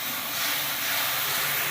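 Garlic, chili paste and turmeric fry in hot oil for a rui fish curry, giving a steady, loud, broadband hiss that stays constant with no breaks and no voice.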